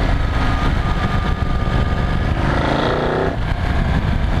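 Close, loud engine roar of a Ducati 1199 Panigale S sportbike on a test ride, a steady rumbling drone with a rising whine of acceleration midway, no talk heard.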